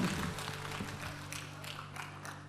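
Applause from a church congregation at a Friday evangelism service, a steady wash of clapping across the whole stretch with a faint low hum beneath.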